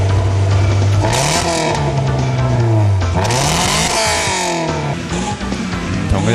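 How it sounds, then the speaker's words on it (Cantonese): Engine notes of a car in the racing game Gran Turismo Sport, one loud continuous roar rising and falling through repeated revs and gear shifts, with no speech heard. "不如我哋聽下啲唔同引擎嘅聲音嚟。"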